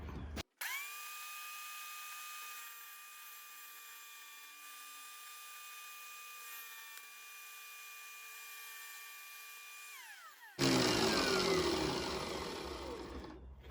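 A power tool cuts Andamooka matrix opal rough. A steady high motor whine runs for about ten seconds and then breaks into a loud, harsh grinding rasp as the blade bites into the stone.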